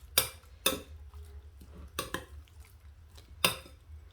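Steak cubes are mixed with cooking oil in a bowl, giving a few sharp clinks and knocks at irregular intervals over soft quiet squishing. The sounds are close, with no talking.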